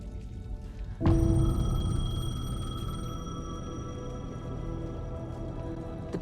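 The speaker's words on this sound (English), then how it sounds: "The payphone was ringing." A payphone rings in the video game Alan Wake 2, cutting in abruptly after a second of low ambience and then holding as a loud, sustained metallic ring over a dark, droning background.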